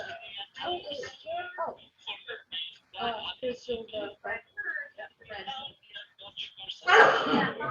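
Talking runs throughout, then a sudden, loud, sharp sneeze bursts out near the end, close by.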